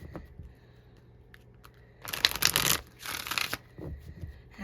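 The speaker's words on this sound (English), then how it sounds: "I just feel the need to kind of shuffle it up a little bit" An oracle card deck being shuffled by hand, two brisk riffling bursts close to the microphone amid an otherwise quiet room.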